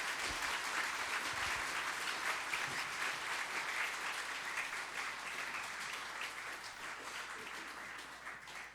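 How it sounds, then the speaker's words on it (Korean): Audience applause welcoming a doctor and pastor onto the stage at a church event, dense sustained clapping from a crowd that gradually fades toward the end. "오늘 김재현 박사님, 목사님 나오셨을 때 큰 박수로 환영해 주시기 바랍니다."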